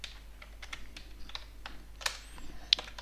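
Login credentials typed on a computer keyboard: a quick run of light, close key clicks with a few sharper taps, alone in a quiet room.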